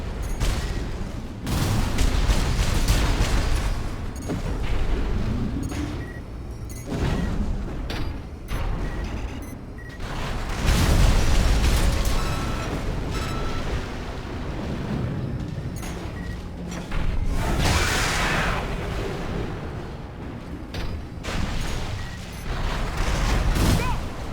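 Gunfire and explosions in the video game Armored Core 6, repeated heavy booms and bursts of fire coming in irregular clusters with mechanical clanks between them, loud and close, with brief radio voices mixed in.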